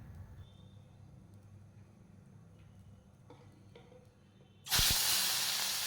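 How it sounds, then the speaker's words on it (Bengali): Katla fish pieces hit hot oil in a wok: after several seconds of quiet kitchen background, a sudden loud, broad sizzling hiss erupts near the end and keeps spitting steadily. "এবারে প্রথমে কড়াইয়ে মাছগুলো ভেজে নিচ্ছি।"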